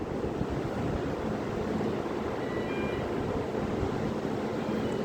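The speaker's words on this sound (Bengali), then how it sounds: "ঢেউয়ের আকৃতি বড় হচ্ছে আস্তে আস্তে।" Sea waves heard from aboard a ship at sunset, a steady broadband wash of surf with rushing wind noise and a low engine-like rumble, loud and continuous with no talking.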